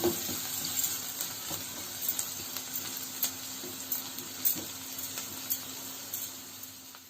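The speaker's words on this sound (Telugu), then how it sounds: "బాగా ఫ్రై చేసుకోవాలండి. ఈ హైలోనే పెట్టుకొని ఫ్రై చేసుకోవాలి, హై ఫ్లేమ్లో పెట్టుకొని." Chicken Manchurian with spring onion fries in a pan over a high flame. It gives a continuous close sizzle with light stirring scrapes and soft periodic clicks.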